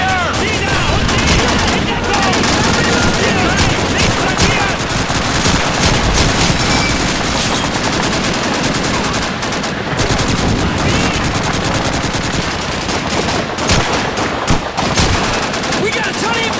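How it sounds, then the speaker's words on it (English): Relentless machine gun suppressing fire in Call of Duty 2, loud sustained rattling mixed with scattered rifle shots and battle noise, with shouted voices underneath. "Holy machine gun!"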